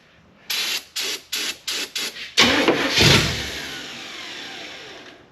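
A Volvo C30 engine, stripped for parts and sprayed with starting fluid, cranks in six or seven sharp, evenly spaced bursts, then catches briefly with a loud rough sputter and rev that fades away, close up with no talking.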